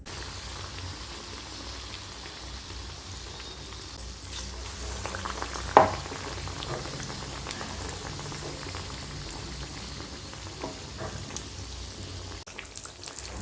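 Banana flower chops dropped into hot oil for deep frying, a continuous bubbling crackle like rain throughout, with a louder splash-like burst near the middle and scattered pops.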